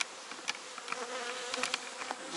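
Honey bees buzz steadily around a hive during the honey flow, a continuous close hum with occasional louder passes of individual bees.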